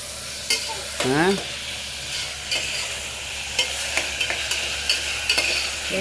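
Tomato rice fries in a pan while a spoon stirs it, giving a steady sizzle broken by repeated close scraping clicks at an uneven rhythm; a brief high squeak rises partway through.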